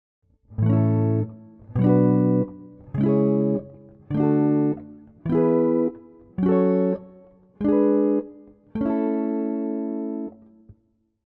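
Eight strummed guitar chords of a single key sound one after another, each held about a second with short gaps, climbing steadily in pitch, clean and close.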